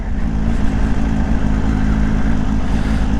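A supercharged Kawasaki Ninja H2 SX SE motorcycle engine drones steadily and loudly while accelerating through gears with a smooth quick shifter, with a continuous close, strong hum and no talk.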